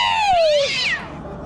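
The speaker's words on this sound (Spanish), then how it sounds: "¿Hay un gato ahí?" A single loud, close cat meow, a drawn-out rising then falling cry lasting about a second, heard alone without talk.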